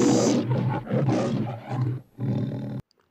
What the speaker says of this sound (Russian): лев Лео хорошо рычит в заставке Metro Golden Mayer